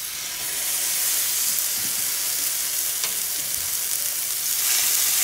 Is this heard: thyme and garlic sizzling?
yes